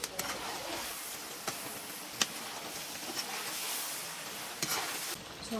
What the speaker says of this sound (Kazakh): Етті 15 минуттай қуырамыз